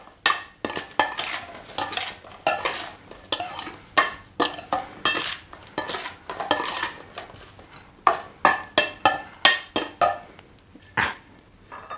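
Chinese sausage salad is tossed with a spicy dressing, producing rhythmic clattering of utensils against a bowl in repeated bursts, close and fairly loud, with no speech.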